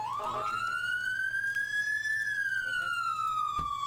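A single long siren wail rises and slowly falls in the Emergency 4 video game with the Harbor City mod, clear and steady against a faint low hum.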